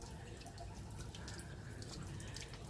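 Water from a working fountain in the Alhambra's gardens trickles and drips steadily, a soft continuous splashing with faint higher droplets throughout, moderately distant and alone without talk.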